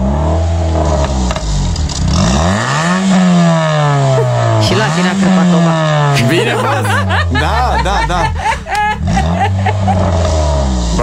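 An Opel Astra engine revving in an underpass, repeated rising and falling revs echoing loudly, heard over a radio studio with people talking and chuckling over it.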